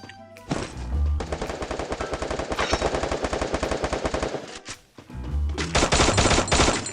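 Automatic gunfire in the video game Free Fire: a long, loud, rapid burst, a brief pause, then another sustained burst of shots.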